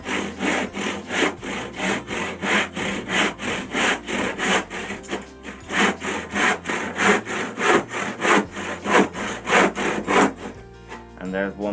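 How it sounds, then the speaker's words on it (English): A handsaw cuts wood for a saw bench in steady, rhythmic rasping strokes, roughly two per second, close and loud, with a short pause midway before the strokes resume. "you can't do too much damage with a handsaw. So I'm just pulling the saw back"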